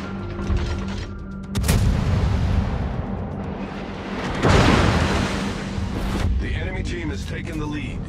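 Naval gunboat cannons firing in a video game, heavy booming blasts with rumbling tails and mechanical clanks, loud and close, with a voice speaking over the battle noise.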